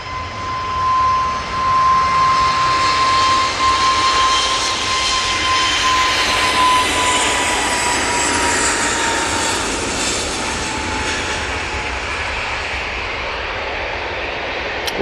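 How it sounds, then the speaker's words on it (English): An EasyJet Airbus A320neo jet takes off at Manchester Airport, a loud, steady engine roar filling the whole stretch with a high whine above it, sustained without a break. "That EasyJet A320neo is off to Hamburg."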